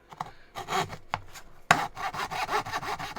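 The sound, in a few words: Japanese hand saw cutting cheap plywood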